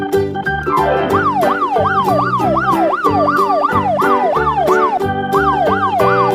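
Police car siren wailing in a rapid repeating up-and-down pattern, loud and close, layered over a horn-like blare and other emergency tones with no voices.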